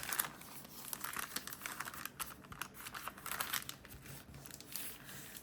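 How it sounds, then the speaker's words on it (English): Paper bag pages being folded by hand for a handmade glued book, close crinkling and crisp rustling with soft creases and taps throughout, no voices. "So I make sure the flap is facing up when I fold it over."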